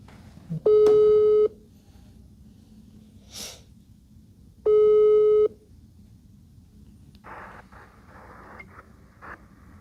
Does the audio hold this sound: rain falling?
no